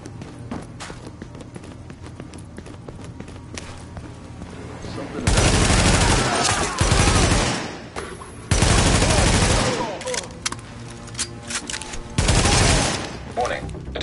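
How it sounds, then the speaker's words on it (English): Heavy gunfire erupts in The Division, long bursts of automatic fire and sustained volleys hammering loudly in several waves after a quieter start with footsteps and faint clatter. "Someone's firing!"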